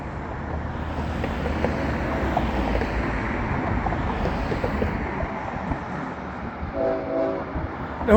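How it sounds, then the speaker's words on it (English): A train passes a bridge construction site on the San Sebastian River, its steady rumble and rolling wheel noise filling the scene near and loud, with a short tonal horn blast rising toward the end. "All right, here comes the train."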